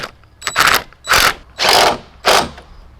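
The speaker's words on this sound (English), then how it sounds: "I like to start with this manual tool, with this Allen key, just so that you don't strip" An Allen key working a bolt on a motorcycle-style mirror mount gives four distinct bursts of ratcheting clicks, close and loud, spaced about half a second apart with no talking.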